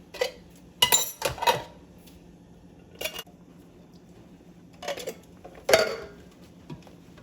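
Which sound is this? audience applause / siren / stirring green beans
stirring green beans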